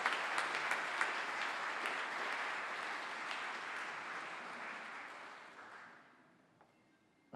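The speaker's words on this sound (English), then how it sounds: "So can we just give Jez a big round of applause and welcome him up to the stage?" A crowd at an awards ceremony claps steadily for several seconds, then the applause tapers off and fades to near silence.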